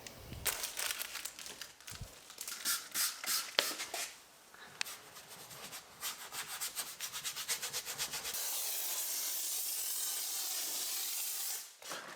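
Close rubbing and scrubbing on the red fabric seats of a 1994 Mercedes C-Class interior gives way to a loud, steady hiss from a steam cleaner, which runs unbroken for several seconds before cutting off.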